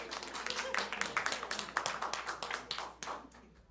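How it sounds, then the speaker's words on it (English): A church congregation at a Sunday service gives a round of applause, with individual claps audible in an uneven patter that tapers off near the end. "Let's give a round of applause."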